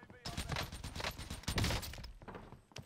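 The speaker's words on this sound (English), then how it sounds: "No, stop shooting each other!" Rapid gunfire crackles in a Warzone match, dense bursts of shots running almost continuously under excited talk.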